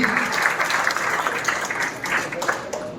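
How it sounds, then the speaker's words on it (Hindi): Applause from an audience at an Independence Day 75th anniversary celebration, a steady, fairly dense patter of many hands clapping at moderate volume throughout. "जोरदार तालियों से साथ दीजिएगा प्लीज।"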